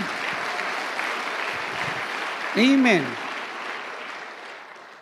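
Steady crowd applause from a Tagalog preaching congregation fills the room throughout, with a brief sung or spoken voice rising over it midway.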